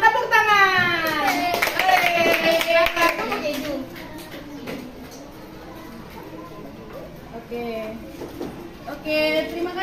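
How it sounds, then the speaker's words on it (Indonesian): A classroom of children claps for the winning group after a game, a scattered burst of hand claps mixed with kids' voices and a teacher talking over it, fading into quieter chatter. "Tepuk tangan"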